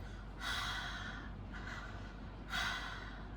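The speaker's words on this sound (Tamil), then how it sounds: "மூச்சு இழுக்கும்போது தொண்டை வழியாக இழுக்கணும், மூச்சு விடும்போது தொண்டை வழியாக விடணும்" Throaty breathing of pranayama practice, air drawn in and pushed out through a constricted throat with the mouth closed, heard as two soft rasping breath bursts with a quieter one between, close and alone without talk.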